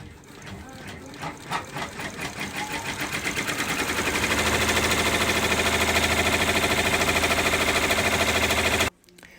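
A Brother / Baby Lock 10-needle embroidery machine starts stitching, its rapid mechanical clatter speeding up over a few seconds to a steady, loud, even rhythm, then stopping abruptly near the end.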